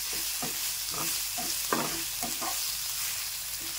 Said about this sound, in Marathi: 2 तेजपत्ता आणि थोडीशी दालचिनी पण टाकू सुगंधासाठी.